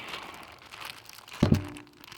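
Close, crinkly plastic rustling from a small prospecting nugget bag being handled, with a pair of sharp thunks partway through, and no talk.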